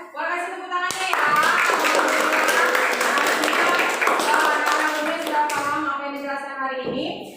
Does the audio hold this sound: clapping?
yes